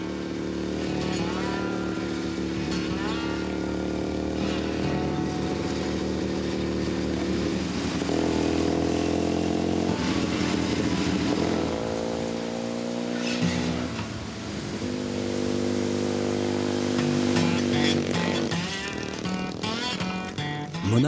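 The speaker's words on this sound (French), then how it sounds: "Olivier prend la route à moto." A motorcycle rides along a mountain road on Mauna Kea, its engine droning steadily with rising and falling revs through gear changes, fairly close, with some wind and road noise mixed in.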